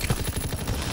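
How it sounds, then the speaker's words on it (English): Fighter plane strafing fire in Call of Duty WWII: a rapid, steady rattle of automatic gunfire lasts about a second, close and loud, with no voices. "Strafing the target."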